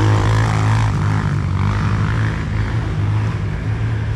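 A Kawasaki KLX dirt bike engine revs hard and steadily at a trail riders' meetup in Capitão, RS, a loud, close, continuous buzzing drone that holds for the full few seconds with no voices over it.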